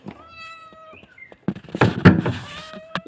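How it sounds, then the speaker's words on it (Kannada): A house cat meows repeatedly outdoors, clear and fairly close, with several drawn-out cries followed by louder, busier calls and some background clatter. "ಇದು ಬೆಕ್ಕು."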